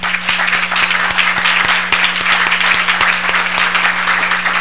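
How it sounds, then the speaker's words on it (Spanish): Parents at a forum on attention deficit hyperactivity disorder give themselves a round of applause, loud, dense clapping from a large seated crowd sustained evenly for several seconds with individual sharp claps standing out. "Entonces siéntanse muy orgullosos y dense un aplauso"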